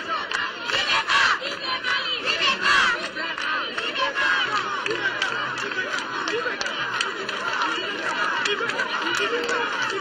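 A large, dense crowd greets Mali's President Ibrahim Boubacar Keïta in Bandiagara, Mopti region, with continuous loud cheering, shouting and ululating voices swelling and holding steady throughout.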